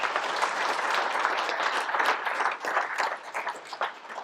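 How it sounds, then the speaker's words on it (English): An audience at a Lotus Seven Club speed championship awards ceremony applauds, a dense burst of many hands clapping together that gradually thins out toward the end, close and full with no speech over it. "Should we have a round of applause for the 2 of those"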